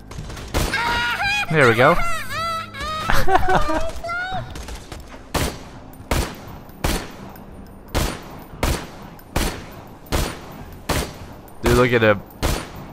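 Borderlands 2 gunfire as a string of sharp, evenly spaced shots, loud and close, following a stretch where people talk excitedly over the game.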